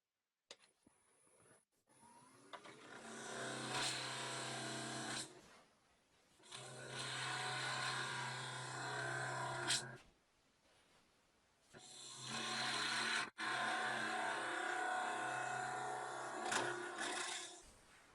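Wood lathe turning a workpiece with a negative rake scraper, the steady whirring cut coming in three long passes separated by brief quiet pauses.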